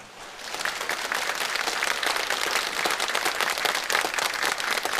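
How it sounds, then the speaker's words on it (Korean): A standing church congregation at a pastor's installation service in Dangjin, Korea, bursts into dense, sustained applause that fills the hall for several seconds. "일어나서 박수합시다"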